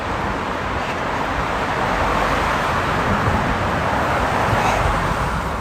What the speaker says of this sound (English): Not usually this much traffic going to the airport.